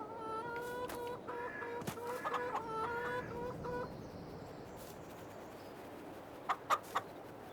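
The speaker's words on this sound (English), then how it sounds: "Are you happy, chickens?" Farm chickens clucking steadily through the first half with repeated tonal calls, then quieter background with a few short sharp clucks near the end; no talking.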